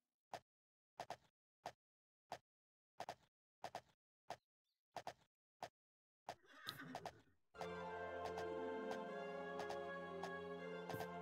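A horse in the video game Daggerfall Unity, with a string of regular clip-clop hoofbeats first, then a loud neigh and a sudden burst of dense, bright game sound.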